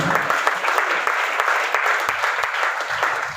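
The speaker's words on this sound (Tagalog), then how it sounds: "Palakpakan natin ang Panginoon." A congregation at a church men's rally in Luzon claps together, a dense, steady burst of applause that fills the room from start to finish.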